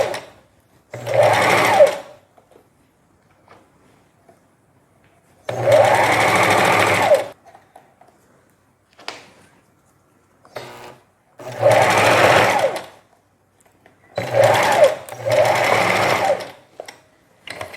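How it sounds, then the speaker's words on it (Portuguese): A domestic sewing machine stitches a seam joining a knit sweater collar layer to the neckline, running in four loud, close bursts of rapid needle clatter separated by quiet pauses. "vou trazer aqui para a máquina para passar uma costura unindo uma camada da gola com o decote"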